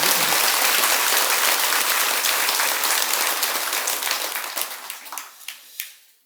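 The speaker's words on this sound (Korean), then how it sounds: "모든 분들에게 통틀어서 박수 한 번 더 칩시다" A congregation at a Buddhist dharma service at Beomeosa temple gives a big round of applause that holds strong for several seconds, then thins into a few scattered claps and fades out.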